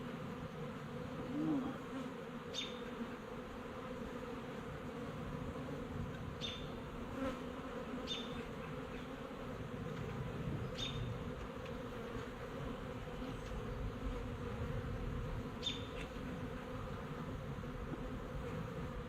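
Honey bees from a colony living in a storm-felled tree hum in a steady, soft drone, with a few faint clicks now and then and no voices.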